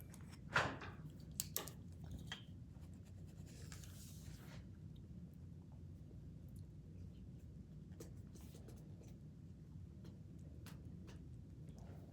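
A pen writes on paper in a few quick scratchy strokes near the start, then a long quiet stretch with only faint room hum.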